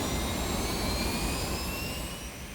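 A military jet from the US air campaign over North Vietnam in 1965 roars overhead. The steady engine rumble carries high whining tones and fades slightly toward the end, with no speech.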